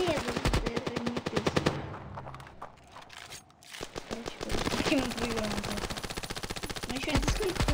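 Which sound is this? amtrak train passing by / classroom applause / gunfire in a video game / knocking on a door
gunfire in a video game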